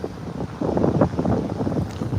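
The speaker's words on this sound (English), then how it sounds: "Just on the beach here today. Pretty windy." Strong gusting wind on a beach buffets the microphone in loud, rumbling bursts, with a faint wash of surf underneath and no voices.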